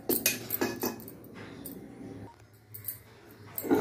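Vada batter being mixed with water in a metal bowl for Mumbai-style vada pav, giving close, irregular clinks and scrapes of a utensil against the bowl with soft wet stirring between them.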